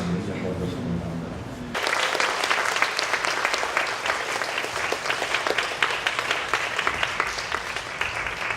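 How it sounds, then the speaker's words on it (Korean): Concert audience bursts into sustained, dense applause after a short stretch of quieter sound, the clapping steady and full for several seconds at a Dream Singers open concert. "박수도 원래 계속 쳐주시는 거예요. 다 나올 때까지."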